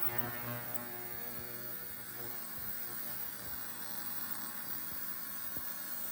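A Lyman ultrasonic cleaner runs while cleaning a small engine carburetor, producing a steady, faint electrical hum with soft buzzing overtones and occasional small rattles.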